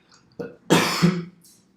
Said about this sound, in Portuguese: começa a dar essa tosse